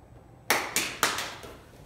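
Three quick hand claps ring out close by in a children's activity session, crisp and evenly spaced, each with a short echo tail in a quiet room.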